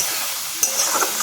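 Yogurt-marinated spice paste stir-fried in a pan for vegetable biryani, a steady close sizzle with a few soft scraping stirs, no voices.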